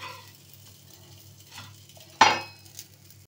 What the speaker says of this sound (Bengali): উল্টে ভালো করে উল্টে পাল্টে ভেজে নেব